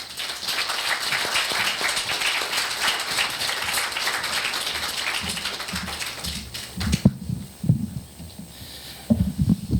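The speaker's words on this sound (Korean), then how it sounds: "김도열 대표이사님을 제가 단상으로 모실 때 여러분들이 열렬한 박수로 환영을 해주시기 바랍니다." A dense wash of crowd applause fills a university lecture hall for several seconds as a guest speaker is welcomed to the podium, then fades out, leaving a few scattered thumps and shuffles.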